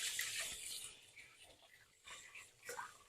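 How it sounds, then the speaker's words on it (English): Tap water runs into a kitchen sink as hands are washed, a close hissing splash that rises and falls with faint movement; a voice speaks softly underneath. "I'm going to wash my hand again"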